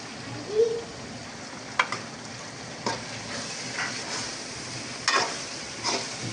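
Yogurt is added to sizzling chicken biryani masala in a pan, giving a steady, soft frying hiss broken by a few sharp clinks and scrapes of stirring.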